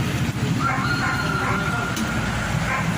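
A rooster crows somewhere in the distance, partly buried under steady outdoor noise and a nearby voice.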